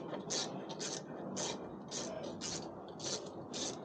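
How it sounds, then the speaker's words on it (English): Loosening a small exhaust clamp on a KTM 1290 Super Adventure gives a close, quiet series of about seven rhythmic ratcheting clicks, spaced evenly as the wrench turns back and forth. "That just removes that little clamp here, look, just to loosen that off."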